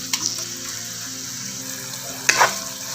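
Beef fries in a pan while being stirred, a continuous sizzle with a couple of sharp scraping stir strokes near the start and toward the end, close and fairly loud, without speech.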